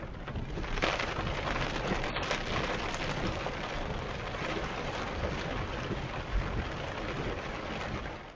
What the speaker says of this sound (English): These are often the worst type of rain showers,